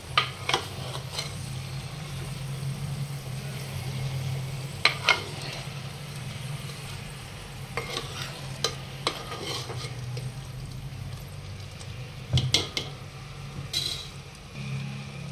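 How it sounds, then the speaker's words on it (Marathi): Champaran mutton being stirred in a clay pot, a steady scraping and shuffling churn over a low sizzle, with scattered louder knocks and clinks of the spoon against the pot. "आता त्याला हलवून घेऊया, खालीवर व्यवस्थित करून घ्यायचं आपल्याला"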